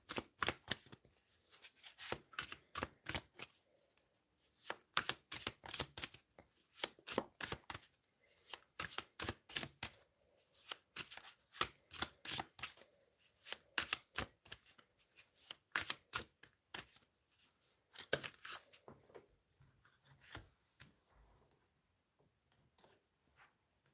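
Tarot deck shuffled over and over in rapid riffling bursts with brief pauses, crisp, close and dry, with no voices.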